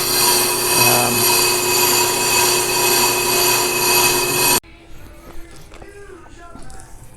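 A trailer's electric brake drum gets a fast skim to clean rust off its brake surface, making a loud, steady machining roar that stops abruptly, followed by quieter clinks and handling noises.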